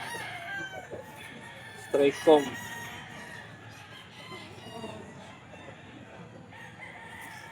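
Roosters for sale at a market give two short, fairly loud crowing calls close together, with someone talking before and after and faint market chatter in the background.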